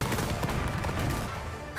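Dense, rapid bursts of blasts and gunfire-like cracks from the anime Dr. Stone roar continuously, loud and overlapping, with no voices.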